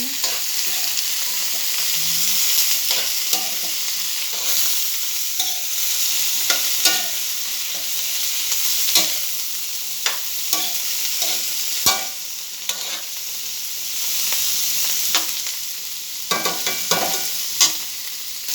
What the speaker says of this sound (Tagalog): isunod natin yung sitaw. Halo-halo natin.